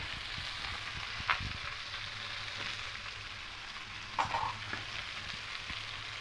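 Steady oil sizzling from potatoes frying in a pan, with a couple of brief scraping stirs and clinks of a utensil.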